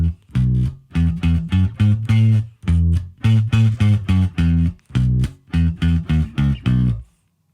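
A country bass line bounces between root and fifth in a steady, loping rhythm, with punchy, close plucked notes and a distorted edge, and no voices at all.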